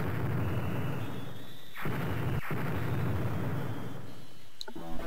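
In the Mother 3 video game, a thick, continuous roar of explosions rumbles for several seconds with two sharp breaks, before chiming game tones come in at the end.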